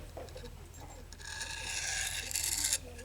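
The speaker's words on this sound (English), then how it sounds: "you just wipe it across your jeans and that'll get rid of a lot of that trash that's on there" A diamond sharpening stone from an Eze-Lap 400 and 600 combo wiped across denim jeans gives a soft, close rubbing rasp that builds over a couple of seconds and then stops.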